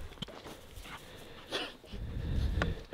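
An excited dog whimpers and gives short yips and barks during a walk, fairly faint and mixed with outdoor rustle and wind noise.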